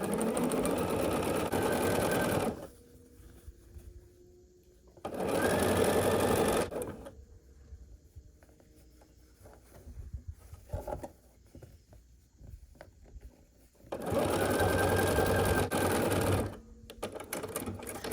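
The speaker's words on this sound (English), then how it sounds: "We're nesting this seam, and then we're going to sew here." A sewing machine stitches a quilt block seam in three loud, steady whirring runs of a few seconds each, separated by quieter pauses with faint handling sounds.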